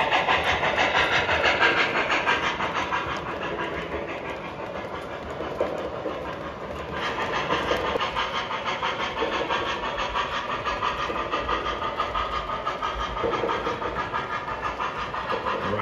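An MTH model J1E Hudson steam locomotive runs steadily along a track with a continuous whirring rumble and light rhythmic clicking, close by and without any talking.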